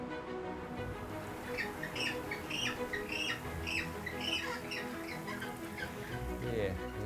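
Injured penguins at a tourist-funded rehabilitation centre in Dunedin keep up a busy, continuous chorus of squawks and calls over steady background noise, with overlapping bird voices throughout.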